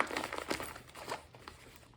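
A plastic bag crinkles around a small toiletry kit holding a toothbrush and floss, a few quiet, close crackling rustles in quick succession.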